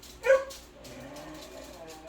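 Dogs in a home workshop give a sharp bark or yip followed by a softer, drawn-out whine, close by, with faint voice-like sound underneath.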